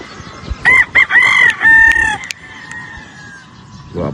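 A yellow-legged Dutch gamefowl rooster at a game farm crows loud and close, a broken series of harsh, rising notes ending in a long drawn-out tail, with faint background clatter afterward.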